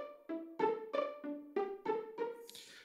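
Pizzicato strings patch on a Roland Fantom workstation, a run of about eight plucked notes in a quick, even rhythm, quiet and isolated.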